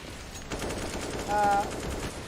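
Rapid gunfire rattles through a Counter-Strike match on Mirage, a steady burst of automatic shots close in the mix with a brief tonal game cue partway through.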